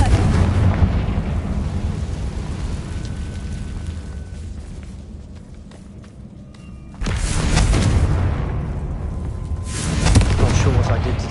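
Confringo fire spell blasting in Hogwarts Legacy, a loud booming burst at about seven seconds that rumbles on, followed by a second swelling blast near ten seconds, over a dense low game-soundscape.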